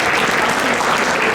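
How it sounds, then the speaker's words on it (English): Brief burst of audience applause at an inaugural dinner, dense and loud clapping from a crowd filling the whole moment. "Give it a round of applause, please."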